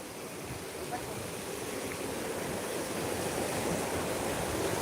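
River water at Shevgaon rushes steadily and broadband, a continuous outdoor roar mixed with some wind noise on the microphone, fairly loud and unbroken throughout.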